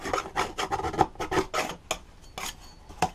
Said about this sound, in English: just make sure just get the scraper in there